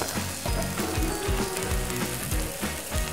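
Pork slider patties sizzle and fry steadily in a hot pan, a continuous close crackle with soft dull knocks as the patties are moved or flipped, no talking.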